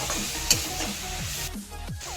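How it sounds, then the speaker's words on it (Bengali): Peas and onion with vegetables frying in oil, a steady close sizzle with repeated stirring scrapes of a utensil against the pan, no voices. "তো তেলের মধ্যে ভেজে নিচ্ছি"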